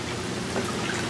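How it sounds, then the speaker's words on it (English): Waterfall feature on an Arctic Spas Eagle hot tub, a steady splashing pour of water with a bubbling, dripping texture, close and continuous at even loudness. "I'm going to turn this waterfall off."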